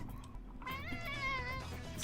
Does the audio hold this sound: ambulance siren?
no